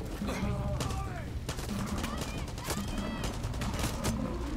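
Bursts of rapid gunfire crackle through a Far Cry 6 firefight, dense and continuous, while voices talk over the shooting.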